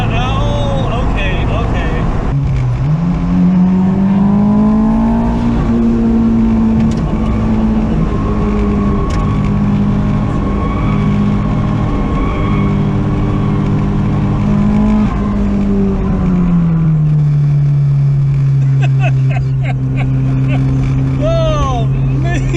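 A Honda S2000 sports car engine revs and accelerates loudly, its pitch climbing then settling into a steady roar, with faint voices underneath.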